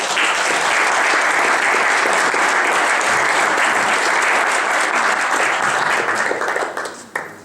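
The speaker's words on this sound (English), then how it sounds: "Applause for Ed." An audience at a book presentation at Casa de España in San Antonio gives a steady, dense round of applause that holds for several seconds before trailing off at the end.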